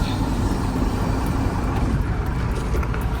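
A new car rolls along steadily, its engine and road noise forming a constant, even rumble heard from inside the cabin with no talking.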